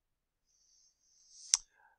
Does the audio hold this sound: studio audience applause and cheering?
no